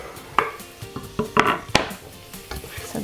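Minced garlic and onions sauté in a pan with a soft sizzle beneath a run of sharp, irregular clinks and scrapes of a utensil stirring against the pan.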